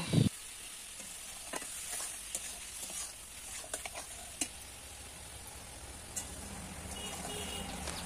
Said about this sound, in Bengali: চিনি দিয়ে একটু সময় নাড়াচাড়া করে নিচ্ছি।